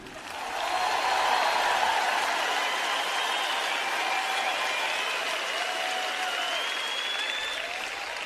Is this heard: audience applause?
yes